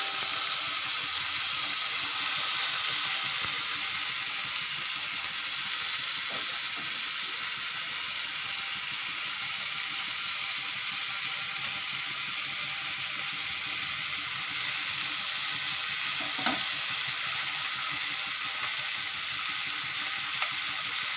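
Rice fries in hot ghee in a pan, giving a steady, even hiss of sizzling that holds throughout without pause, close and alone with no voices.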